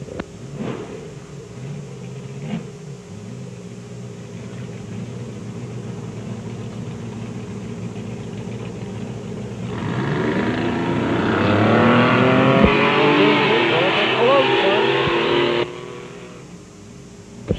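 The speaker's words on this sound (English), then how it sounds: "Your next truck is Tim Lanigan driving the Suzuki." A Suzuki racing truck's engine revs loudly in a competition run, swelling into a roaring, rising burst midway that holds for several seconds before easing off, over a steady background rumble.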